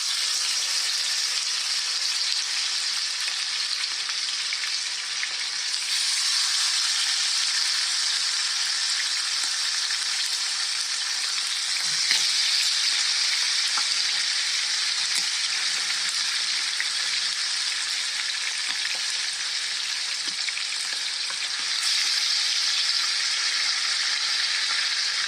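Chicken pieces frying skin side down in grease over medium-low heat on a stove, a steady, dense sizzle that holds loud and close throughout, with a few faint clicks and no talking.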